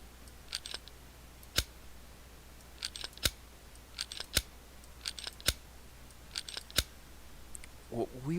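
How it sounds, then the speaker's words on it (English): Rounds click one by one into a magazine in a video game, sharp isolated ticks arriving in small irregular clusters, fairly close and crisp over quiet background. "you just hear a little click, click, click sound as the rounds go into the mag"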